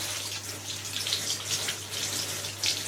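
Water runs steadily from a tap as feet are washed in a sink or basin, a continuous close splashing hiss with slight surges and a low hum beneath.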